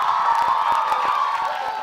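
Dense crowd noise at a quiz event in Jaipur, with cheering and whooping blended into a steady roar, a few sharp claps poking through, loud and sustained throughout.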